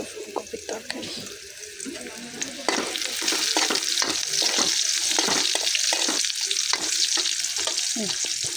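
Fish and cauliflower curry cooking in a pan, with steady sizzling and a regular scrape-and-clatter of stirring that grows busier after the first few seconds, close and moderately loud with a faint voice briefly underneath.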